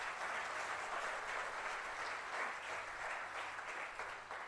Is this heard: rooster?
no